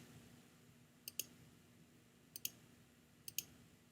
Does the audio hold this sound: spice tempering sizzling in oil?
no